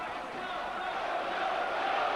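A local boxing crowd at the Palais des Sports in Marseille, backing Christophe Tiozzo, gives a steady, even roar that holds at one level throughout.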